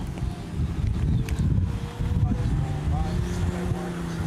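A Honda autocross car with a VTEC engine runs a lap at the Anaheim Stadium autocross. A droning engine note rises in pitch toward the end, muffled by gusty wind noise on the microphone.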